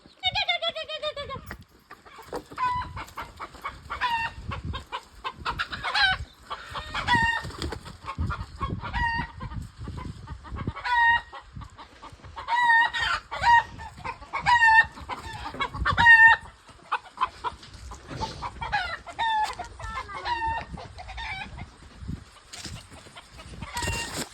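Chickens cluck and squawk in a farmyard, agitated bursts of close, loud clucking coming in irregular clusters, with quieter gaps and a few higher calls between them.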